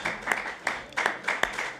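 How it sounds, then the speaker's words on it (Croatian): Several people clap for award recipients at a ceremony, producing sharp bursts that come in a loose, regular rhythm rather than a dense roar, fairly close and without clear speech. "možemo kolektivno aplauz za svi"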